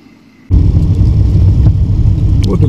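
A car driving along a winter ice road through the mountains: after a brief quiet moment, a loud, close engine rumble starts abruptly and holds steady, mixed with road noise until the end.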